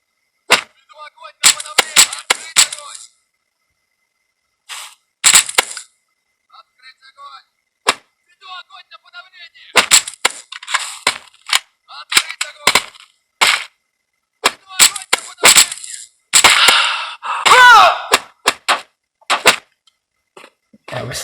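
A video game weapon fires sharp, loud shots in quick bursts. Short silent gaps separate the bursts, and the shots stand alone without talk.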